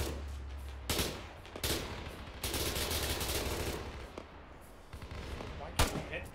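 An MG3 machine gun fires in ArmA 3 military combat, heard as sharp bursts and stretches of rapid automatic fire, moderately loud, with people talking in between.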